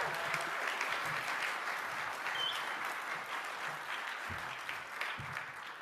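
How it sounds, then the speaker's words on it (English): A conference audience at an afternoon keynote gives sustained, steady applause, a dense wash of clapping from many hands that fills the room throughout. "you're going to give the loudest applause for Faye"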